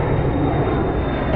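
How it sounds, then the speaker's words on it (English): A giant airplane passes overhead near a truck out on the road, its engines a loud, steady, broadband roar that fills the whole moment without letup. "Giant plane going overhead."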